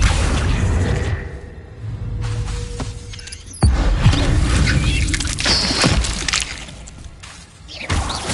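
A Confringo fire spell goes off in Hogwarts Legacy on PS5, a loud explosive impact with a shattering crash in the middle of continuous battle noise, rumbling booms and whooshes over several seconds.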